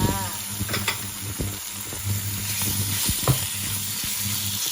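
Pork belly stir-fried with red curry paste in a pan, a steady close sizzle with occasional spatula scrapes and stirring knocks.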